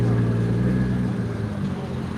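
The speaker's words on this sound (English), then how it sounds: "that guy's got a modified exhaust. You guys hear that?" A car with a modified exhaust passing near a DUI checkpoint in Orange County, a loud, deep engine drone heard close and continuous that eases slightly as it goes by, with people's voices faintly underneath.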